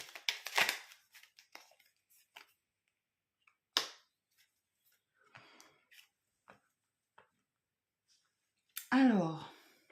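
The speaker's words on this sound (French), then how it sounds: "Les ciseaux." Scissors cutting, heard as a few sharp clicking snips separated by quiet gaps, close and fairly faint, with someone speaking French in between.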